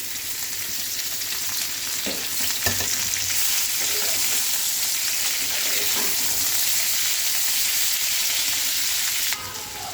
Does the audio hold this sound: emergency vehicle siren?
no